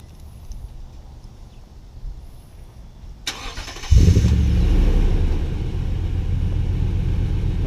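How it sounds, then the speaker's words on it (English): A Toyota Tundra pickup starts by remote start: a click, a brief crank, then the engine catches with a loud low rumble that settles into a steady, close idle. "Okay, so truck starts fine,"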